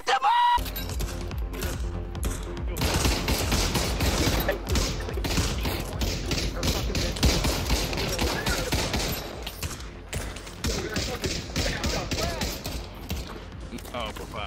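Rapid WWII-era gunfire in the VR shooter Pavlov VR crackles in dense bursts throughout, loud and close, with battle noise and shouted voices mixed in.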